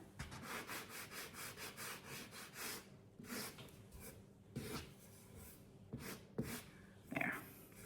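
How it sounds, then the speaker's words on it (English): Dorlands wax is rubbed by hand onto a mounted watercolor painting, making close, rhythmic rasping strokes that come fast at first, then slower and more irregular with brief pauses. "I'm going to now apply the Dorlands Wax"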